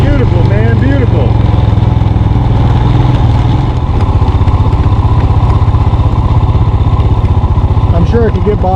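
A loud, steady Royal Enfield Himalayan motorcycle engine drones throughout at a constant rhythmic chug while riding, with a voice briefly breaking in near the start and end.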